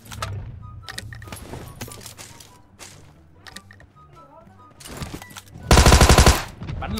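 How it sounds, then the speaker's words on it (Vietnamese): Pistol gunfire in PUBG Mobile on the Sanhok map: scattered sharp clicks and shots give way to a loud, rapid burst of reports near the end, with speech heard briefly. "Bắn lục giết 3 thằng anh em ạ"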